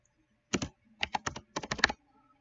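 Quick bursts of crisp, close keystrokes on a computer keyboard, two short clusters of clicks separated by a brief pause in an otherwise quiet room.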